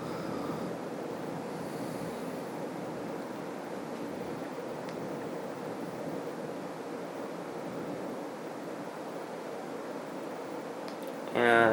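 A Casablanca Four Seasons three-speed ceiling fan from about 1989 runs at high speed, making a steady broadband whoosh of moving air that holds even and continuous before a brief louder bump at the end.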